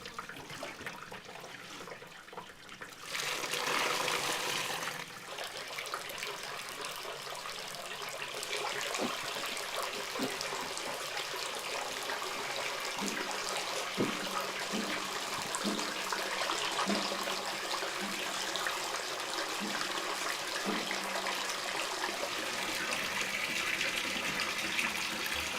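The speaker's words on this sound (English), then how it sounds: "it's strained, all the liquid separated from the curd." Hot soy milk liquid pours and splashes steadily as it is strained away from the curd, a continuous gushing flow with faint clunks partway through.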